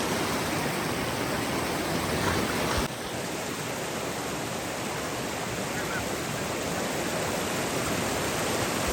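A rain-swollen stream rushes past in a loud, continuous, broadband roar that stays close and unbroken, dipping slightly after the first few seconds.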